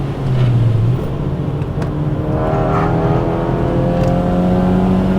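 A SEAT Leon with over 350 horsepower pulls hard on a test track, its engine loud and close, rising in pitch through a steady run of revs with no talk over it.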